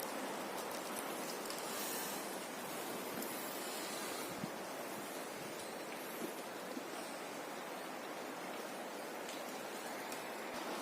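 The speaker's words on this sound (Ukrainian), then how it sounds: "А це нашла хмара, дощик накрапує. Вітер." Light rain patters and wind rushes through a forest near a village in Khmelnytskyi region, a dense, even hiss that holds steady for the full stretch with no voices.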